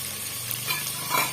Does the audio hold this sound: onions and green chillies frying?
yes